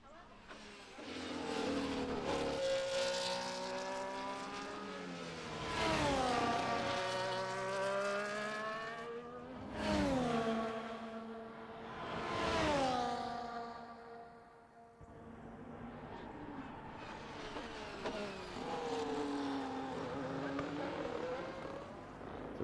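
Race cars lapping the Brazil circuit in a racing video game scream past one after another, engines rising and falling in pitch as they approach and recede, with commentators talking over them.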